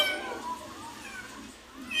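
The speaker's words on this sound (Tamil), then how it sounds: "சஞ்சனா ஆச்சி ரெண்டாவது தலைமுறை அந்த பூனைக்குட்டி" A kitten meows repeatedly in a family setting, with clear, fairly close cries that rise and fall over a faint background hum.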